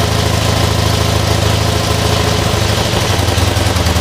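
A V4 engine idles with the choke on just after starting while warm, giving a loud, steady, even rumble that runs the full length with no talking.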